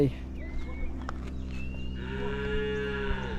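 A cow in a Tanzanian village moos once, long and drawn out, over a steady mechanical hum and some faint background chatter; the call sounds moderately distant.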